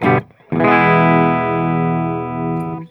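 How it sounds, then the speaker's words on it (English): A sustained electric guitar chord rings out clean through a Fender Deluxe Reverb-style amp sound with flat EQ, after a brief first strum, holding steady and slowly decaying, with no voice. "let's hear what our clean signal sounds like."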